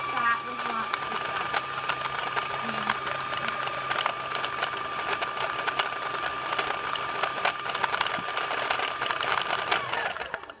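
A sewing machine winds thread onto its bobbin with a steady, continuous whir and faint mechanical clatter, running close by for the whole stretch without pause.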